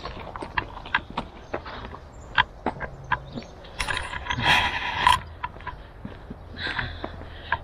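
Footsteps on an outdoor walk come as irregular close clicks and taps, mixed with rustling and a brief mechanical rattle midway, and no talk.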